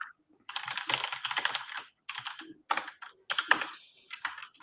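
Computer keyboard typing comes in close, quick bursts of keystrokes, separated by short pauses.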